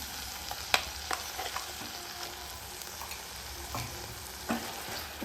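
Ground masala paste frying with soft mashed tomato in a pan, a low continuous sizzle broken by occasional close clicks and scrapes of a stirring spoon, without talk.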